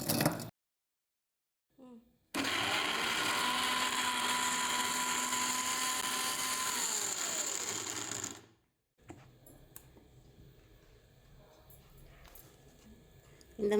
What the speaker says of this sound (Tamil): இப்போ அதே மிக்ஸி ஜாரில் வெங்காயத்தையும் கொரன்னு அரைச்சி எடுத்துக்கலாம்.